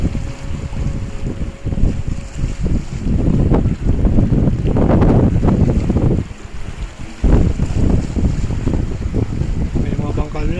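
Strong wind roars steadily by the sea at high tide, blustery gusts buffeting the microphone with a constant rushing noise, close and loud throughout.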